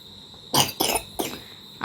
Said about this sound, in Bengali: একটু কাশি হয়েছে ওর